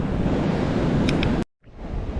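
Sea waves on Dandi beach near Malvan make a steady broad surf roar with wind noise, briefly cut off before resuming.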